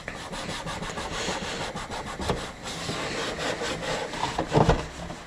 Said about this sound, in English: we're going to be getting our Scotch-Brite. Hoping this is enough, but we'll see. So we're just going to scuff the whole thing.